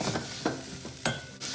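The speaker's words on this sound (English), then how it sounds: "Just stir until the raw taste goes." Chili, turmeric and cumin powder being stirred in a hot cooking pan, a soft continuous sizzle broken by a few distinct scraping strokes of the spoon, close and alone.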